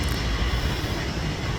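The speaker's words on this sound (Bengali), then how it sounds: "এখন বৃষ্টি সেরে গেল, সেই ফাঁকে বিমানটি এখন পার্কিংয়ে যাবে।" A Gulf Air Boeing 787 Dreamliner taxis to its parking stand after landing just after rain, giving off a loud, steady engine rumble with no breaks.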